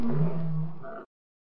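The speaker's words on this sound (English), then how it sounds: "Lion." A lion roars once, a deep, close, loud call lasting about a second before cutting off to silence.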